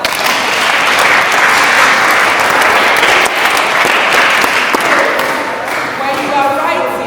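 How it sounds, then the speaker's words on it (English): Loud, sustained applause from an audience, likely students, at a volunteer school workshop in Nigeria, close and steady for about seven seconds with faint voices mixed in. "Clap for yourselves."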